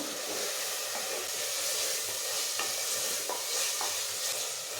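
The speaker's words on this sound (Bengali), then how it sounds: "এখন মশলাটা খুব ভালো করে কষিয়ে নেব" Chili and turmeric spice paste with a splash of water being stirred and fried in a pan for mutton kosha, a steady close sizzle with scraping stirs throughout and no talk.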